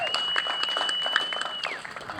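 Brief applause from a community day crowd honouring a judge with a veterans award, a light patter of clapping with a faint whistle-like tone running beneath it, at moderate distance.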